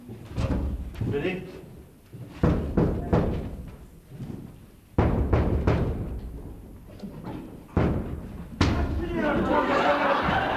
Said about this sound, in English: we'll give him one loud knock